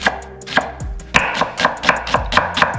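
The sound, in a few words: knife finely chopping shallot for salad dressing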